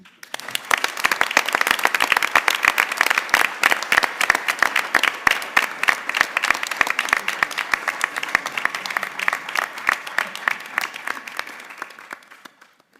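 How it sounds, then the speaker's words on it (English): An audience at a college board of trustees meeting gives sustained, dense clapping that builds quickly, stays even and lively throughout, then tapers off at the very end. "let's give him another round of applause."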